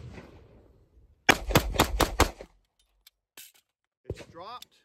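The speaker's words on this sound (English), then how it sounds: "We're gonna fire 5 rounds, and then we're gonna do a quick reload" Five rapid gunshots from a Sig Sauer P320 Legion pistol fitted in a Flux Raider PDW brace crack out in quick succession at close range. A few faint clicks follow, then a brief voice.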